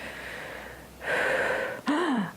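A person imitates a gasp for breath during a calming breathing exercise, a soft airy inhale followed by a louder, sharp voiced gasp, close and alone.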